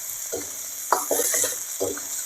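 Beef fat rendering its oil in a hot pan makes a steady high sizzle, with a few stirring scrapes and clatters of a utensil against the pan over it.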